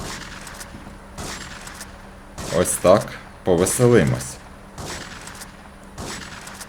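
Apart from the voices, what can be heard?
pump shotgun firing in video game GTA 3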